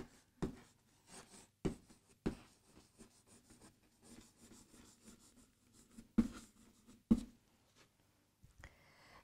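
Pen writing in a notebook during a Ukrainian grammar lesson, made up of faint scratchy strokes and soft taps that come in irregular bursts with short pauses, heard up close and alone.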